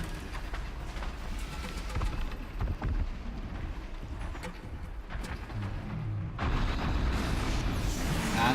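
Continuous rumbling booms and blasts with a roaring, windy wash, loud and sustained throughout, like chaotic explosions from robot machines fighting in the video game Horizon Zero Dawn.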